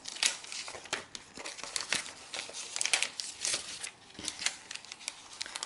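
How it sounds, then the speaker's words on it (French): Paper puzzle card pieces slid into a plastic sleeve, a close series of crisp crinkling and rustling handling noises in irregular bursts, no voices. "je vais mettre tous les morceaux à l'intérieur,"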